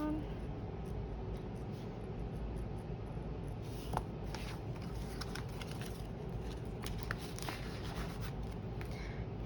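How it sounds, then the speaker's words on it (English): A pen writes on paper in soft, close scratching strokes, irregular and faint over a quiet room hum, with no talking. "Let me write that down."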